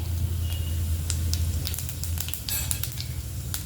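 Steady crackle of cumin seeds in hot ghee with scattered sharp pops, fairly loud and close, no voices.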